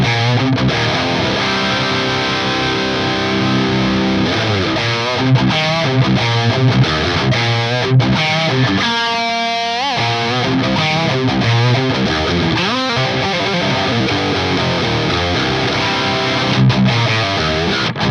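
Distorted electric guitar through a FAS AX8 modelling a 5153 amp, set for a hard rock tone with supply sag raised and extra mids, playing a continuous loud riff with sustained chords and bends, no talking.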